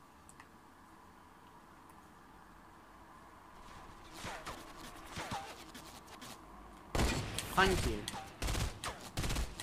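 Fortnite gunfire in rapid bursts, starting faint and growing to loud, dense volleys toward the end, with a player's voice speaking briefly.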